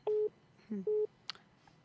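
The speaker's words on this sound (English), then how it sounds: "I mistakenly cut the phone off." A telephone busy signal after a call is cut off, two clear repeated tones with a short pause between, followed by a brief click and quiet line noise.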